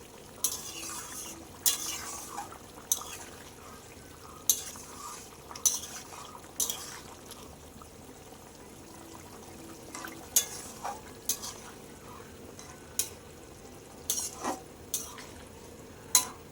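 A utensil scrapes and clinks against a pan at irregular intervals, stirring a simmering rohu fish curry with papaya and potato; quiet, close, with no talking.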